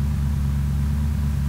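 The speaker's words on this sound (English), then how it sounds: "The car I hear may be my car since I left it running." A steady low engine drone, like a car left running nearby in the video game Unturned, humming evenly without change for the whole moment.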